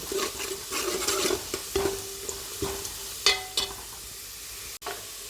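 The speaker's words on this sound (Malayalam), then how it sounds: "ഉള്ളി നന്നായി മൂപ്പിച്ചെടുക്കണം." Onions frying in a pan for semiya tari kanji, stirred with a spoon in short scraping strokes over a soft sizzle, close and moderately loud, with a few sharp utensil knocks.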